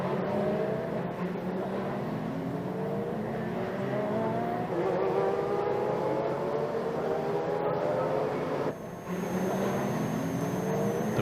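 Race cars from a 1995 DTM touring car race file past at a steady roar behind the safety car, engines droning and shifting pitch continuously in a dense, unbroken wash of motor noise.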